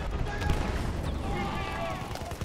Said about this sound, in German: Irgendwo wird jetzt geschossen.